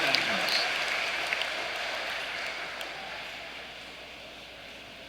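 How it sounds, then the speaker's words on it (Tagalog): A congregation at an evening Catholic Mass claps, the applause beginning full and fairly distant and then slowly thinning out as it fades over the church's reverberant hiss. "Bigyan natin isang masigabong palakpak ang ating Panginoon sa Kristo."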